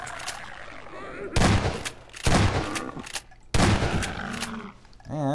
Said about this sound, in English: Oh yeah, shotgun.